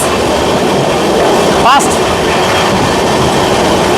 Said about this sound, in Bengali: পেরিয়ে গেল বালিয়া শিয়ালদা